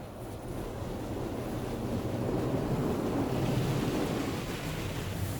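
An automatic car wash at Hosers Car Wash in Belleville, Ontario, rinses a car, with loud, steady rushing water spray that fills the whole stretch without a break.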